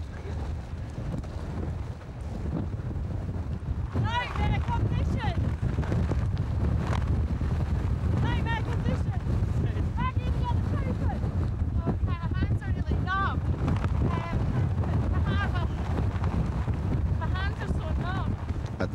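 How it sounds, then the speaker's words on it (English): Strong wind blasts across a misty mountainside during the Scottish Islands Peaks Race, a constant loud rumbling roar with buffeting against the microphone, while a voice speaks over it throughout. "the wind that billowed the sails over to Mull is blasting the runners, getting stronger all the time as they climb higher into the mist"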